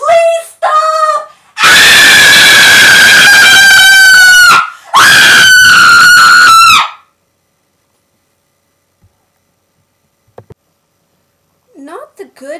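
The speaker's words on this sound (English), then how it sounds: "They could all hear screams." Loud, terrified human screams come close in several sustained, piercing bursts, two short cries followed by two long shrieks, then near silence with faint scattered sounds.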